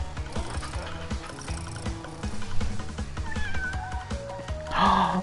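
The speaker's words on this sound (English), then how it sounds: "it went meow" A cat meows amid a busy electronic video-game soundtrack in an attic setting, with short tonal cries rising over rhythmic musical beats near the end.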